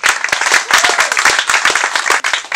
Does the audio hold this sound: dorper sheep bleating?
no